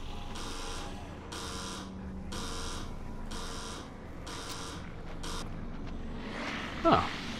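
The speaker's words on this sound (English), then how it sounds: "The alarm went off" An alarm sounds in the video game The Evil Within as a steady series of harsh buzzing pulses, about six evenly spaced blasts, loud and mechanical, with game noise underneath and a short sharp clatter near the end.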